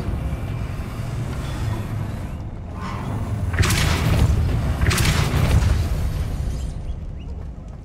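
A Depulso spell is cast in Hogwarts Legacy, producing a pair of loud whooshing blasts roughly a second apart over a low, steady rumble, trailing off into quieter ambience.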